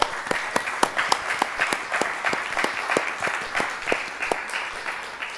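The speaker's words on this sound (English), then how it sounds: "Can you just give a round of applause for them?" Audience at a multicultural and diversity center symposium and grand opening clapping for the organizing committee, a steady patter of many hands with distinct sharp claps standing out, moderately loud and continuous with no talk over it.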